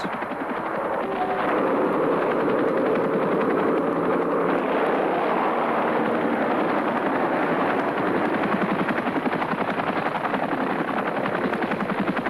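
A Bell UH-1 Huey helicopter's rotors thump in a steady, continuous roar throughout, loud and close.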